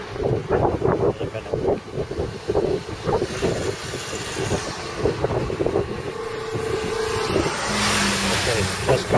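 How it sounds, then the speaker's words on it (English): Strong wind buffets the microphone in rumbling gusts, with people talking over it. "It's very windy."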